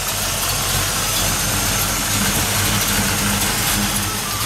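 A Chevrolet Camaro Z28 fitted with a Corvette V8 engine idles inside a garage, a loud, steady, rumbling low drone with a rough uneven pulse, heard up close and alone.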